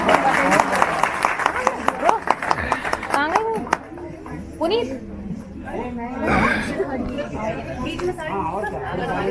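Audience applause at a Republic Day celebration in a hall, a burst of clapping under lively chatter and speaking voices, the clapping fading after a few seconds while crowd talk continues.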